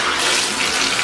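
Hot water runs steadily from a tap on its hottest setting, a dense, even splashing rush heard close and alone.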